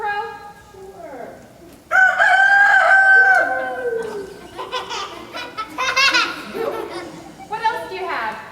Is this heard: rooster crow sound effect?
yes